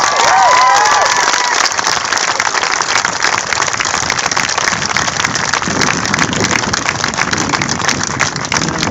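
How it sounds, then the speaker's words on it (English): A large crowd applauds a girls' sports team, sustained and hissing like heavy rain, loud and even throughout with cheering mixed in. "I'd like to give you a big round of applause for all of the people that put work into all these girls"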